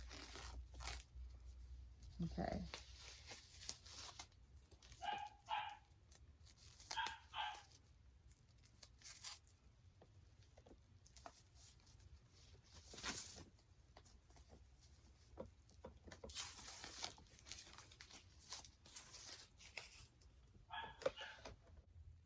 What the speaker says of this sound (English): don't mind my puppy in the background. She's still a baby and she's barking for whatever she wants right now.